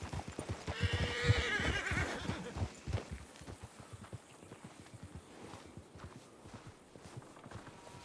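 A horse in a Red Dead game whinnies loudly, then hooves clip-clop in a steady walking rhythm that fades as it moves off.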